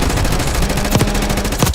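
Rapid automatic gunfire in Black Ops 6, a loud, evenly spaced stream of shots filling the whole moment without pause, close and dominant.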